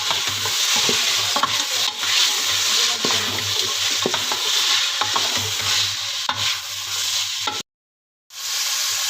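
Spices and onion fry and get stirred in a pan, a steady bright sizzle with repeated scraping strokes of the spoon, close up, with a brief cut to silence near the end.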